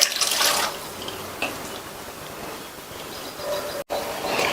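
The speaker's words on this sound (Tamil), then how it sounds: "இதுல வேக வச்ச பட்டாணியை தண்ணியோடையே சேர்த்துடலாம்." Boiled peas are tipped with their cooking water into a pot of simmering kurma, giving a brief rushing splash at the start, then a softer steady liquid hiss and bubbling.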